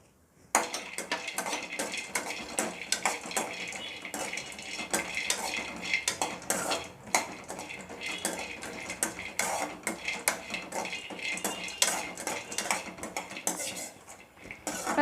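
Cashews dry-roasted in a pan for a homemade nuts powder: a steady stream of dense clinking, rattling and scraping as the nuts are stirred and tossed against the metal, close and continuous throughout with no talking.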